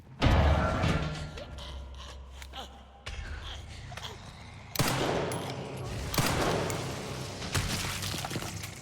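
Gunfire in the Resident Evil Requiem video game: several sharp, loud shots crack out between stretches of echoing, rumbling game ambience.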